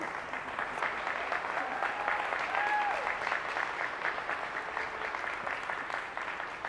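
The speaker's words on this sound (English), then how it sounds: "How about a great applause?" Wedding guests at the Gramercy Park Hotel in New York break into sustained, dense applause that carries evenly through the whole stretch, with a few whistles rising over the clapping.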